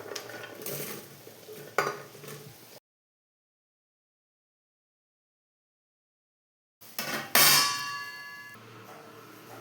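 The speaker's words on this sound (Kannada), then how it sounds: "ತೊಳೆದಿಟ್ಕೊಂಡಿರುವಂಥ ಕಟ್ ಮಾಡಿರುವಂಥ ಬೀನ್ಸು ಮತ್ತು ಕ್ಯಾರೆಟ್ ಹಾಕ್ಕೊತಾ ಇದ್ದೀನಿ." Washed, cut beans and carrots go into a cooking pot with clattering metallic clangs and scraping. A short burst comes first, then silence, then a louder clang with a ringing tail.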